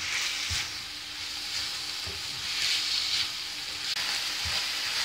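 Spices stirred and fried in a little oil for keema paratha filling give a loud, steady sizzling hiss, broken by a few low thuds and scrapes of the spoon in the pan.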